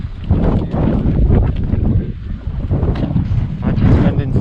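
Wind buffets the microphone aboard a boat, a loud, gusty roar that rises and falls continuously, with muffled voices faintly underneath.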